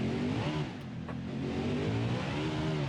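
A NASCAR mod race car in the BeamNG driving game runs close by, its engine droning and rising in pitch as it pulls away onto the track, steady and loud throughout.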